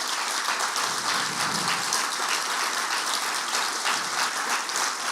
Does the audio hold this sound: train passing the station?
no